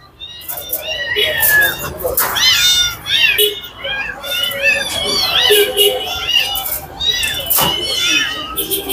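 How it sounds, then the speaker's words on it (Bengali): Repeated meows from an ash-coloured cat at a pet market in Dhaka, several close and loud, overlapping with a person talking throughout. "ভাল্লুকের মতো বিড়াল, এস কালার, অসাধারণ সুন্দর এস কালার বিড়াল"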